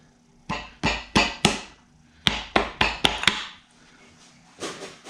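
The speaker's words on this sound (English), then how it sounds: "we're going to have to whack that with our little hammer" A small hammer strikes a stuck transmission pan on a 200-4R automatic transmission being torn down for a high-performance rebuild. There are two quick runs of about four sharp blows each, then a fainter knock, close by and with no talk.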